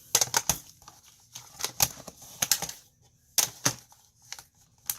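Paper punch pressing through craft paper for Halloween candy crafting, a series of sharp, crisp clicks and snaps in irregular clusters, close and fairly quiet, with pauses of soft handling between.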